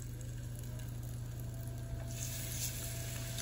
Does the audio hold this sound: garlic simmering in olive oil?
yes